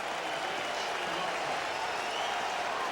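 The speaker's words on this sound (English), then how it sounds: "And the crowd still in full throat right now" A large stadium crowd roars steadily at an NFL football game between the Chicago Bears and New York Giants, a dense, sustained wall of cheering and applause with no break across the moment.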